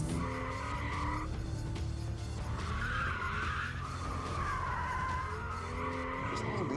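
Tires squeal and skid as a BMW M2 is held in a drift, a loud continuous screech under a revving engine, with a voice talking over it.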